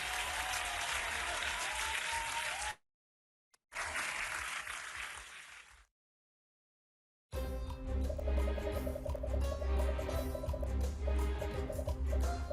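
A round of applause during an online practice quiz for the Danish citizenship test: a dense burst of clapping that breaks off abruptly, resumes briefly, then falls silent before music starts.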